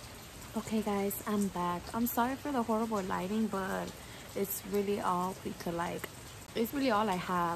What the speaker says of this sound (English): it's raining outside and I love how it sounds outside